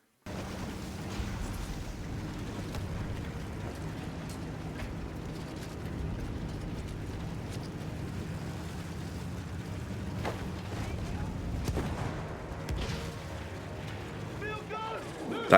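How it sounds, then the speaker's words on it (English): Artillery shells and explosions in the Battlefield 1 video game rumble heavily over a tank's constant low engine drone, with occasional sharper blasts and crackles, some distant and some nearer, and a talking voice in places. "That noise of the shells ripping over your head, near misses"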